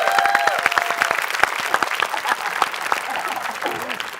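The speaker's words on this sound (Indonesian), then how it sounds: "di sini yang tahu lagu Bukan Boneka KKY tepuk tangan?" A comedy roast audience bursts into applause, a crowd clapping steadily and fairly loudly for several seconds, with voices and cheers mixed underneath.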